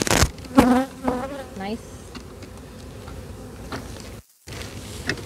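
Honeybees buzz around an open beehive in a steady, close drone, while people talk briefly over it at the start and a short gap of silence appears near the end.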